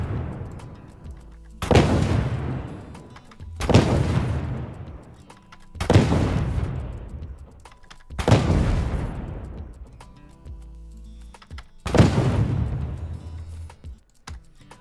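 Six heavy booming explosions in a row, evenly spaced about two seconds apart, each with a sharp attack and a long rumbling decay.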